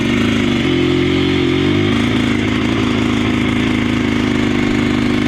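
An abandoned ATV engine with an aftermarket coil runs steadily nearby, a rough mechanical idle with a brief rise in revs early on before settling back to an even drone.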